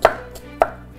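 A knife chops an onion on a board, two sharp, close strikes with a faint tap between them, heard alone without talk.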